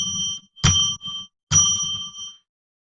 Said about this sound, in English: I commemorate the sacred space by ringing a bell 3 times.